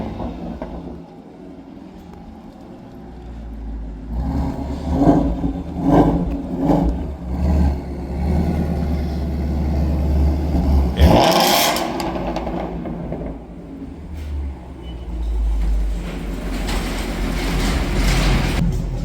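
A 2016 Shelby GT350 Mustang fitted with a Roush H-pipe exhaust revs repeatedly, its loud bursts rising and falling in a rhythmic pattern, with one sharp, hard rev near the middle and a steady idle rumble between.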